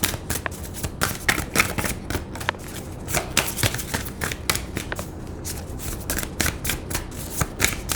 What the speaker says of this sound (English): Let's pull one of these Shine a Light from Within cards.